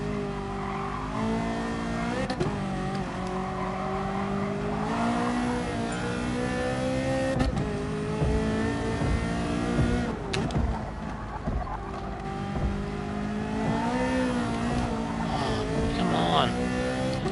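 A racing car engine in a PS4 racing game drones and revs from the cockpit view, its pitch rising and falling through gear changes, with occasional tire squeal and wall impacts, while someone talks over it.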